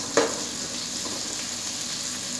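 Ginger frying in a pan while clams are being cooked, giving a steady close sizzle that starts with a brief burst as it hits the hot oil.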